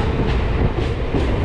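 A local train runs along the Sonarpur–Canning route through rain-flooded country, its loud steady rumble and rolling wheel noise filling the whole stretch from close by.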